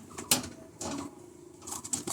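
A racing pigeon coos softly in its loft, a few short low murmuring coos with a brief flutter or patter between them, faint and close.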